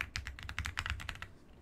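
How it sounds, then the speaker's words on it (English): Keys on a computer keyboard clack in a quick, irregular burst of about a dozen soft close taps, quiet and alone before trailing off. "on your keyboard type love and justice"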